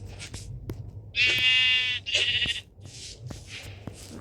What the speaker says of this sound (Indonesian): Tadi aku melihat domba hitam.